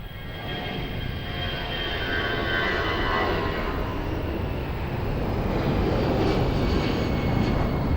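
A passenger airplane taking off from runway 02 at Lisbon Airport, a steady broad jet engine roar that builds slightly in loudness, heard from a distance with no talking.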